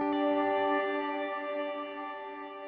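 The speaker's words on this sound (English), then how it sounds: "it's got a cloud reverb here, and I'll show you" A sustained electric guitar chord through a cloud reverb pedal swells and hangs in a wide, washy reverb, slowly fading away.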